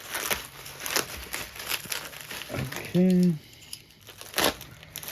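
Packing tape crinkles and rips in several short bursts as it is pulled off an unboxing package, close to the microphone and mixed with a man's speech.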